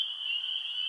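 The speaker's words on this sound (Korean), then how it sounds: "개구리의 울음소리가 들려왔습니다." A steady, high-pitched trill of a frog calling in the rain, one sustained even tone at moderate loudness with no voices.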